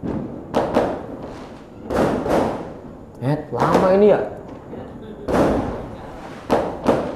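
Firecrackers go off outside during an Islamic study lecture: a string of muffled, booming bursts at irregular intervals, each with a short rumbling tail, while someone speaks briefly between them.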